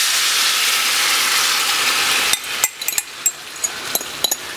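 Vietnamese pork chop sauce pours into a hot pan and hisses in a loud, steady sizzle, then drops to a quieter bubbling broken by sharp spatter pops and clicks.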